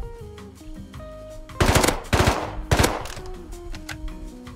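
A burst of gunfire in Rust, three loud clustered volleys of rapid shots cutting through a quieter background of music-like tones, close and punchy.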